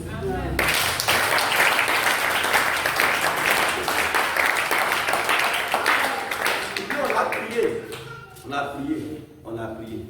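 A church congregation applauding and clapping steadily for several seconds, loud and sustained, then thinning into scattered claps with voices mixed in.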